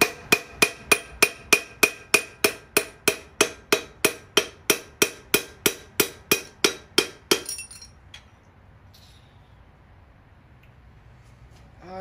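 Hammer blows on a steel punch against the cylinder of a 283 small block Chevy engine during teardown: about twenty sharp, evenly spaced metallic strikes in quick rhythm, close and loud, then stopping into quiet shop background.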